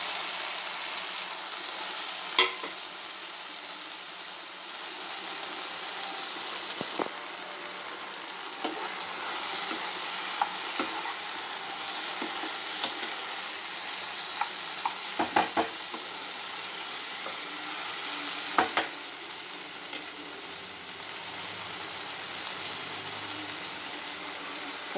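Mushrooms fry in a pan with well-cooked tomatoes for a vegetarian mushroom curry, giving a continuous soft sizzle with occasional sharp clicks and scrapes of stirring, close and moderately quiet, with no talk.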